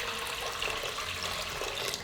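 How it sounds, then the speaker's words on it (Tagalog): Water runs into a cooking pot in a steady, continuous splashing pour, close and even, with no talking. "Maglalagay lang muna tayo ng tubig dito sa isang cooking pot."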